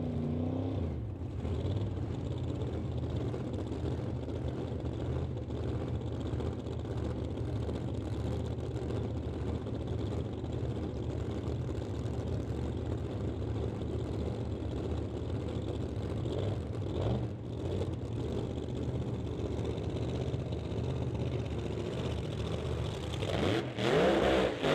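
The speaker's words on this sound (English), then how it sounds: "the Pro Mods that are here on the property this weekend are racing to the 8th mile" Pro Mod drag race cars at the Langley Loafers Old Time Drags, racing in pairs to the eighth mile: a loud, sustained engine roar that holds steady close by, with a rising rev sweep right at the end.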